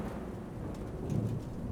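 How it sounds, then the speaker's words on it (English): Thunder in the Warhammer Chaosbane video game, a low, quiet rumble rolling over a soft rain-like hiss, brief and distant. "Suddenly, a peal of thunder shatters the stillness"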